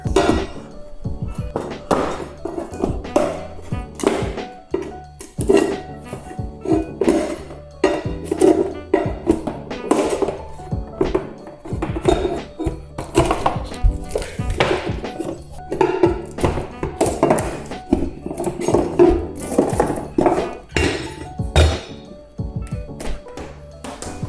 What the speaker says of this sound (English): we're just going to use our pry bar and take off that piece of trim